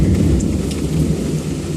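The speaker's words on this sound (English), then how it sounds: "I didn't even think it was going to rain." Steady rain with deep rumbling thunder outdoors in a residential neighborhood, a loud, continuous low roar filling the whole stretch with no voices.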